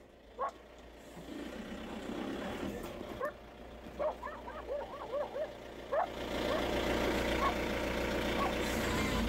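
A dog barks in a series of quick, yappy bursts at moderate distance, over a low engine rumble that swells louder toward the end.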